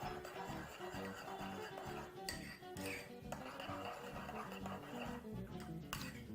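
Seasoning of salt and black pepper is stirred and mixed in a bowl, making a steady, close rubbing and scraping with a few sharper clinks, and nothing else is heard.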